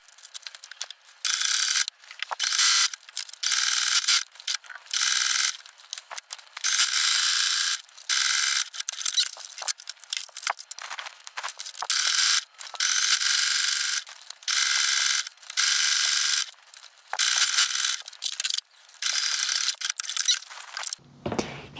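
Sewing machine stitching a drawstring casing on a swimsuit, in repeated bursts of rapid mechanical whirring and clatter separated by short pauses, close and fairly loud with no talking.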